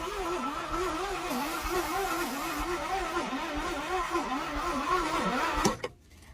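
A 1968 Ford Thunderbird starter cranks the engine steadily after starting fluid is sprayed in, a rhythmic, wavering churn that runs for several seconds without catching, then cuts off abruptly.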